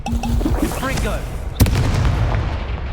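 Confringo explosive spell cast in the Hogwarts Legacy video game, a sharp blast with a short booming tail arriving right after a brief spoken word, amid game effects.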